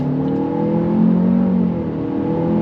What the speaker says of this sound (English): And then let's see how the acceleration goes.